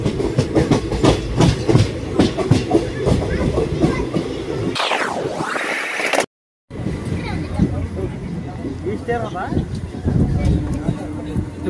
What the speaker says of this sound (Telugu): ఇప్పుడే పక్కన రాత్రి మీద గూడ్స్ ట్రైన్ని స్పాట్ చేసాం